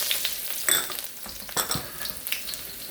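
Garlic and ginger sizzle in hot oil in a pan for squid with black bean sauce, a bright, close frying hiss with a few scraping stirs over about three seconds.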